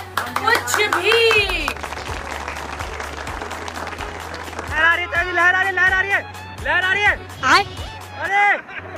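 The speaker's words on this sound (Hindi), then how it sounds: "प्लीज तालियों से स्वागत कीजिए" Clapping from a gathered group welcoming someone, mixed with excited voices and shouts over a steady low hum, with bursts of loud chatter and yelling toward the end.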